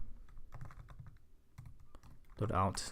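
Close, irregular clicking of keys on a computer keyboard in short bursts, then a voice starts talking at the end.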